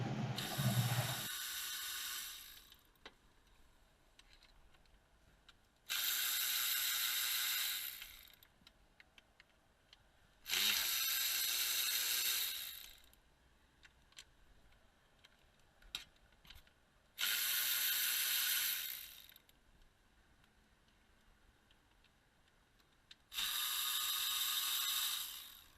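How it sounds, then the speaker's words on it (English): Ratchet clicking as 10mm intake manifold bolts come off the heads of a 2006 Nissan Armada, heard in four separate bursts of fast, close ratcheting with quiet gaps between them. "you can start taking the 10mm bolts out of the intake manifold that hold the intake manifold to the heads"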